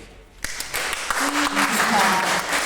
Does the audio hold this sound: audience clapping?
yes